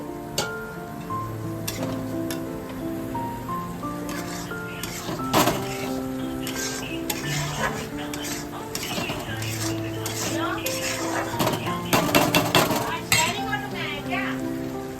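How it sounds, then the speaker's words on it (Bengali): Metal utensil clinks and scrapes as vegetables are stirred in a cooking pot for a Shahi Pani recipe, with irregular clatter throughout over steady background music, louder knocks near the end, and a voice talking at times. "সবজিটা একটু নেড়ে দিচ্ছি।"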